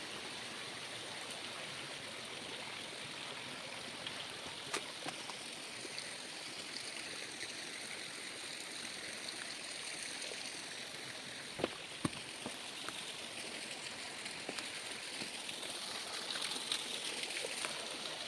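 Water cascading down a rocky waterfall at the Kollimalai secret falls, a steady broadband rush with a few splashes and drips, continuous and fairly close, with no voices.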